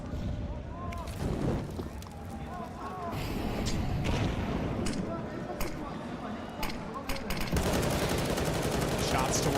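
Rapid gunshots ring out during a professional Counter-Strike match, bursts of rifle fire popping at mid distance beneath steady commentary from casters.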